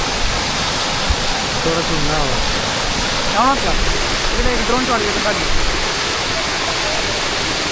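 Maruti waterfall at Chondhe in Shahapur, Thane, roars as a loud, steady rush of falling water close by while someone talks over it.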